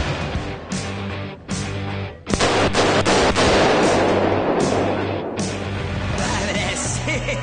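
Gunfire in a film scene where a character shoots at many people, sharp cracking bursts and rapid shots over loud music, with brief drops between volleys.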